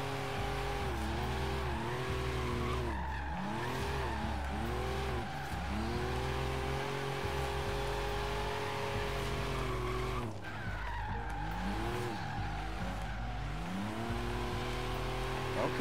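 A GMC Cyclone truck slides through corners in the racing game Forza Horizon 3, its engine droning and revving steadily while the tires squeal in long wavering skids, loud and continuous throughout.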